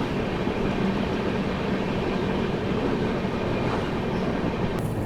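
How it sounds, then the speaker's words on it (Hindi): Telangana Express train rolling steadily on rails near Itarsi Junction, a continuous loud rumble of wheels and carriages with faint rhythmic clatter throughout. "ट्रेन जो है अपनी इटारसी जंक्शन की ओर पहुंच रही है।"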